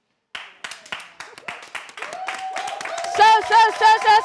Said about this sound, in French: Est-ce qu'on peut se lever pour applaudir?